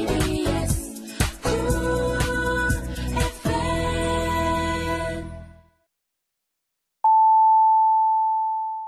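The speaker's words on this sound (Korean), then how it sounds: "정성을 다하는 KBS 라디오가 잠시 후 11시를 알려드립니다" Music from a Korean KBS Cool FM radio broadcast fades out into silence, then a single long pure-tone beep sounds as the time signal before the 11 o'clock hour.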